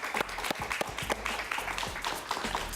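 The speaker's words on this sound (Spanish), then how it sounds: "Un aplauso para él, por favor." Studio audience applause during a televised interview, uneven close clapping with distinct individual hand strikes and low rumbling underneath.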